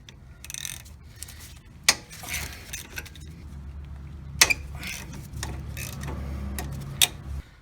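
A ratchet works on the 13mm caliper bolts of a Jeep Wrangler Unlimited during a rear brake job, giving a few sharp metallic clicks and clanks spaced seconds apart over quiet mechanical handling noise.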